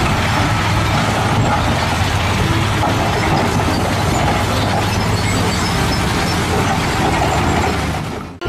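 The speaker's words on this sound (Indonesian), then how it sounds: "Ini truk pasir." A sand truck's engine gives a loud, steady rumble with a broad roaring hiss, holding level close by for about eight seconds before cutting off abruptly at the end, with no talking over it.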